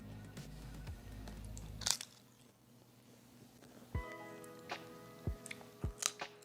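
Lay's potato chips in new flavours such as pickle and white cheddar being bitten and chewed: a few faint, sharp crunches spaced apart, with soft crinkling in between, heard up close in an otherwise quiet room.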